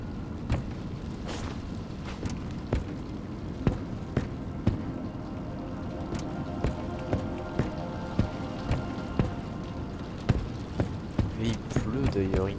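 Rain in the horror video game FNAF Secret of the Mimic, a steady soft patter under repeated sharp knocks and steps at an uneven rhythm.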